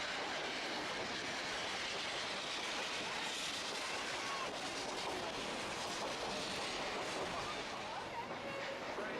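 Durango & Silverton narrow gauge train running toward the Needleton water stop, a steady dense rumble and rattle of wheels and cars filling the whole stretch at a constant loud level.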